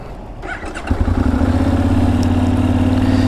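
A Benelli 752S motorcycle engine catches and settles into a loud, throbbing idle close by, its deep, even pulse steady after a brief startup clatter.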